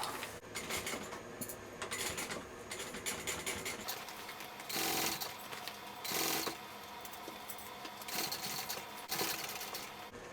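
A sewing machine bastes backpack pieces together in short, rattling runs of stitching, broken by brief pauses and handling noises, close and moderately loud.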